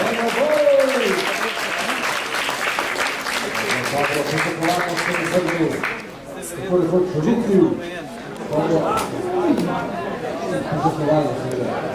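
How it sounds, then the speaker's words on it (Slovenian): Spectators applaud at a friendly football match between a political party and journalists, the clapping running steadily beneath a commentator's voice that keeps talking throughout. "Dajmo en aplavz za Roberta Volka"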